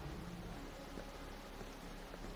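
Steady, even hiss of rain falling in the video game Wuthering Waves, a continuous soft wash of noise with no other sounds standing out.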